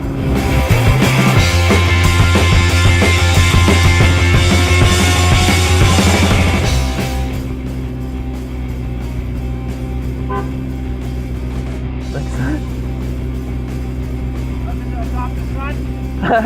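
A 2018 McLaren sports car engine roars loudly and close in city traffic, then drops to a lower steady rumble, with people talking over it.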